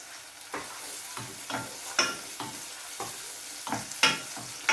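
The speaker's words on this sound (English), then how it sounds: "So you just want to saute that. Make sure your onion doesn't burn though." Onions sautéing in a pan for a chickpea curry, a steady soft sizzle broken by repeated scraping strokes of a spoon roughly every half second, close and alone with no voices.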